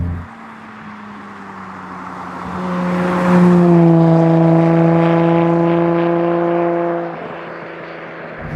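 An R33 Nissan Skyline GT-R V-Spec engine revs up on the road, rising to a loud droning tone that holds for several seconds and then eases off.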